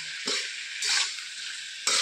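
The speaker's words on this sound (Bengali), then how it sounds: "নাড়াচাড়া করে একটু হালকা ভেজে নেব, বেশি ভাজবো না, অল্প ভাজবো।" Sliced ridge gourd and potatoes with salt and turmeric sizzle as they are lightly fried and stirred in a pan, a steady hiss broken by a few louder scraping stir strokes.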